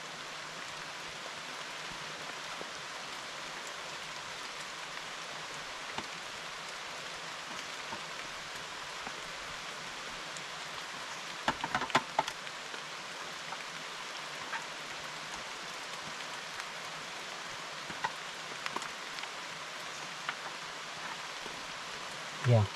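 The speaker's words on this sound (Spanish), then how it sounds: "la lluvia está fuerte realmente" Heavy rain falls in the jungle as a steady, even hiss of water on leaves and ground, continuous and enveloping for a long stretch, with a few louder knocks and no voices.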